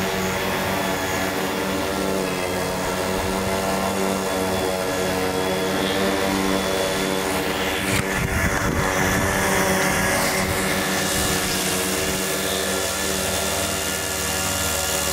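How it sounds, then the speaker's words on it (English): Pulso U39 series brushless motors spinning up close, a steady loud whirring drone with a propeller-like hum, continuous throughout with a brief surge in the middle. "these motors sound amazing"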